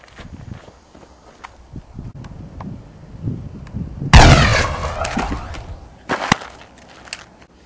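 Gunfire in the Call of Honor video game: a sudden loud burst at the midpoint with a crackling, ringing tail, then a sharp follow-up shot, over soft rustling and scuffing.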